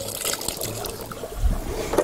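Cassava root goes into a pot of water on a hob, with a liquid splash and trickling against low kitchen background noise, plus a firmer plunk near the end.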